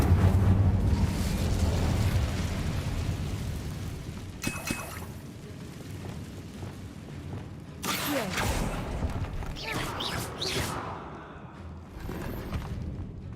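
A fire spell is cast in the Hogwarts Legacy video game, giving a rumbling, crackling burst with mechanical clatter and sharp bright flares, several surges over a steady low roar.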